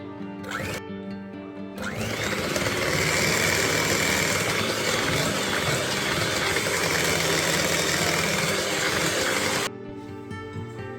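An electric hand mixer beats banana cake batter as oil is added gradually, a loud, steady whirring drone starting after a brief bump and stopping near the end.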